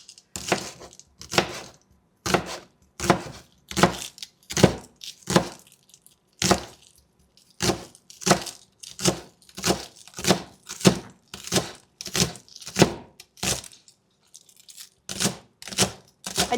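Green onions being chopped with a knife for pork and shrimp wonton soup: crisp, regular cuts in quick bursts of several strokes each, with short pauses between bursts, loud and close, with no voices.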